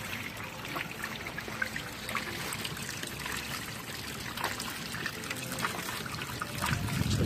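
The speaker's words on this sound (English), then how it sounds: "And the hose I got going to a French drain that I have down there, so it's draining into my French drain." Water from a Costway mini washing machine's drain hose pours steadily into a French drain outdoors, a continuous close trickling and splashing stream with no voices.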